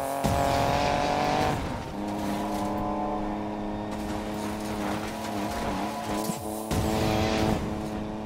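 A car drifting in the racing game Need for Speed Payback, with an engine roaring and shifting pitch under long tire squeals, loud and sustained and joined by other car noise.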